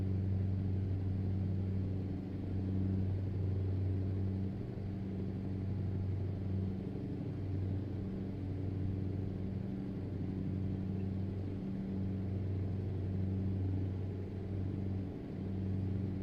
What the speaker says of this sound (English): Renault T improved engine sound mod is very good.